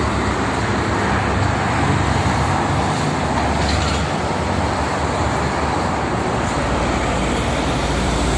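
Heavy traffic, including trucks, rumbles along the Jakarta-Cikampek toll road on a morning of the holiday homecoming rush: a loud, steady roar of engines and tyres fills the whole stretch with no pause and no voices.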